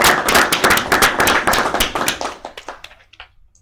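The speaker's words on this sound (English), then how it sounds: "I think you all should give yourself a round of applause." Council members at a college council meeting give a round of applause, a burst of close, dense clapping from a small group that thins out and fades to a few last claps.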